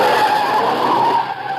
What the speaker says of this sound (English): Car coming down from the house. Yeah, at a good clip, too.